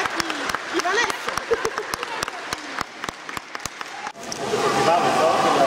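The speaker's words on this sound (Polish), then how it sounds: "Wielkie brawa dla zawodników." Applause for swimmers at a school year-end event at an indoor pool, with sharp separate claps ringing over a busy, echoing crowd; the clapping ends near the close and gives way to louder general crowd noise.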